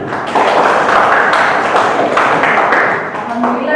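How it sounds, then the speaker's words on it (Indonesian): Children in a classroom clapping their hands together, a dense burst of fast claps close by, mixed with a few voices. "Silakan tepuk tangan anak-anak."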